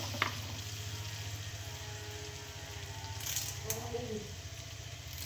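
Chillies and chopped onion sauté in a pan for Kerala-style sardine curry, a steady low frying sizzle running throughout with a faint clink or rattle near the start and voices murmuring in the background.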